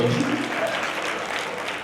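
Crowd applause from an audience at a World Heart Day event in Kurnool, a steady wash of clapping filling the short stretch from start to finish with a faint voice underneath.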